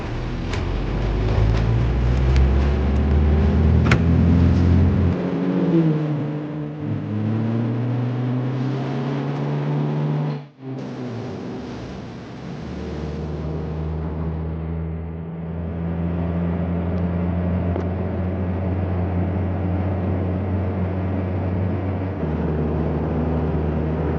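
Steady road and engine noise from a car cruising on the Bang Yai–Kanchanaburi motorway, a continuous broadband rumble with shifting hum, close and constant with a brief dip midway and no talk.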